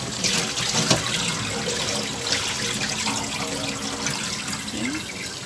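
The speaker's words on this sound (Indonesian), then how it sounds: "Cuci sampai benar-benar bersih ya guys." Celery stalks rinsed under a running kitchen tap, a steady broadband rush of water splashing into a sink with a few brief clatters, continuous and fairly close, no voices.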